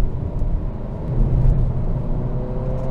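A 2023 Acura Integra A-Spec with a manual gearbox rolls over rough pavement, giving a steady low road rumble and tire drone from inside the cabin that holds fairly even throughout.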